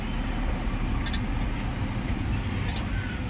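Steady low rumble of slow-moving road traffic in a heavy jam, heard from a truck cab, with engine drone and two brief high hisses like air brakes, continuous and fairly loud with no talk.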